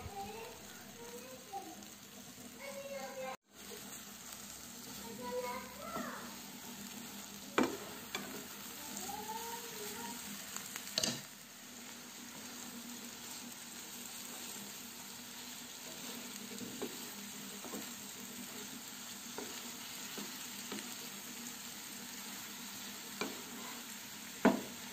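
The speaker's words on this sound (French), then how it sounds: "Je rajoute encore un morceau de beurre." Butter sizzling and frying in a pan, a steady hiss with occasional crackles and spoon taps, close but soft, with faint voices at times.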